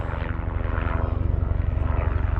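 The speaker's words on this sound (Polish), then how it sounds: "jeszcze jakiś helikopter nam leci, jak widzicie" A helicopter passes overhead at a beach, its rotor thumping in a steady, loud low pulse that holds through the whole stretch with no voices over it.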